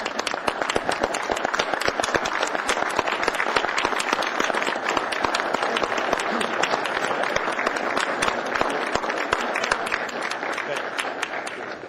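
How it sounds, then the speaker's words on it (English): An audience gives a sustained round of applause at an assembly meeting, dense steady clapping from many hands that carries on evenly without talk. "we will give you one last round of applause for all of your service"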